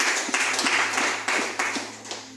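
A church congregation claps for Jesus, a dense, continuous patter of many hands with a few sharper accents, loud and close, over a faint steady hum.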